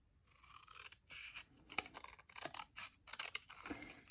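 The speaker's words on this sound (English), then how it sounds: "I'm just going to use my paper snips" Paper snips cutting a short piece of paper for a craft project, a close series of quiet crisp snipping and slicing strokes in an uneven rhythm with brief pauses between them.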